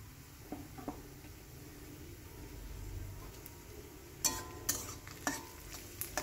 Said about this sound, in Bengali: তো ভালো করে লাল করে আমি ভেজে নিচ্ছি